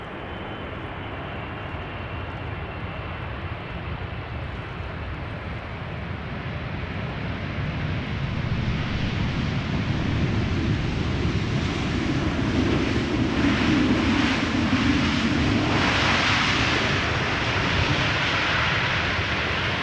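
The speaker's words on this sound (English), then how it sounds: "KLM flight 592 arriving from Johannesburg, 777-300 ER, flight time 10 hours 26 minutes." A KLM Boeing 777-300ER airliner lands at Amsterdam Schiphol, its engines a broad, steady roar that swells and grows louder toward the end, with a whooshing rush sweeping past near the middle and no voices.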